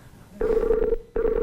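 An outgoing phone call rings back over a computer connection: two loud electronic ring bursts with a short gap between them, clear and alone.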